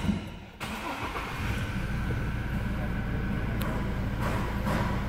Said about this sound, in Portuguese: Segura a partida do motor.